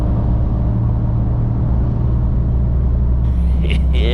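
A 2019 Chevrolet Silverado pickup accelerating hard from inside the cab, a loud sustained engine roar and road rumble with a steady low drone, plus a brief electronic beeping near the end.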